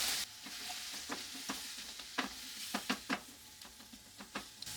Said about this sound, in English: I want to cook these vegetables till they're nice and tender before I add the potatoes